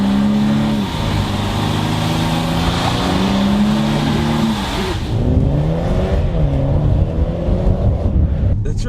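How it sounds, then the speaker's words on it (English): A 2020 BMW M135i with a 306-horsepower engine and DSG gearbox driving, its engine droning steadily and loudly from inside the car, then shifting and climbing in pitch again during the second half. "It's just all engine. It's not a particularly nice sound"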